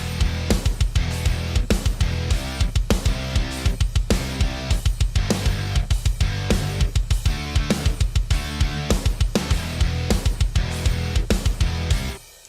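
Programmed drum pattern of steady kick drum thumps with snare hits in a repeating groove, loud and even, running for about twelve seconds before stopping.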